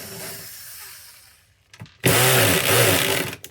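A power screwdriver whirs at high speed while removing tight screws from an Xbox Series X console, with short bursts, a pause, then a loud sustained close-up buzz.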